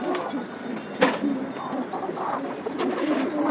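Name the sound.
pigeons cooing in a cage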